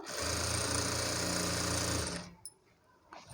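A normal domestic sewing machine stitches a fall onto a saree in one loud, fast, rhythmic run of needle clatter for about two seconds, then stops, leaving faint handling clicks.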